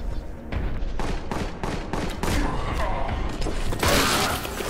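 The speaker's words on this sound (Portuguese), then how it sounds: "O cara atirando em mim" Enemy gunfire in the Warhammer 40k Boltgun video game, a dense run of repeated shots and bursts with heavy low rumble, loud and continuous under game noise, with some speech mixed in.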